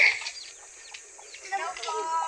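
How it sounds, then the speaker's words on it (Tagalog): Chickens on a small hillside farm cluck and chirp softly in short scattered calls, fairly faint, while a person talks nearby and calls to them. "Uy, ang daming manok."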